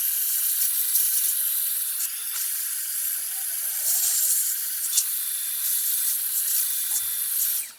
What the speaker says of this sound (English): some alcohol is sprayed and then removed with an air blower